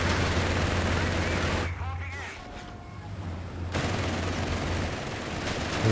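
Sustained machine gun fire in a Company of Heroes 3 base fight between a Dingo and a 221 armored car, a dense continuous roar that briefly thins before resuming at full strength.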